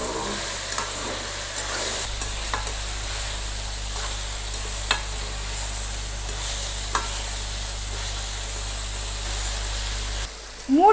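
Broad beans being stirred as they fry in oil for a curry, a steady close sizzle with occasional scraping ticks of the spoon against the pan, a brief clatter at the end.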